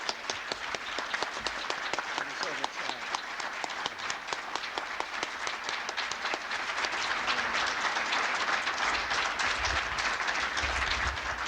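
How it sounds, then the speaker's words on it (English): Sustained audience applause fills a university lecture hall after a talk by Anthony Lake, dense steady clapping that swells slightly louder toward the end, with no voices over it. "I think we can give him a big applause"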